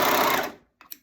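An overlock serger runs loud and steady while stitching fabric for about half a second, then cuts off abruptly, followed by a couple of faint, short handling clicks.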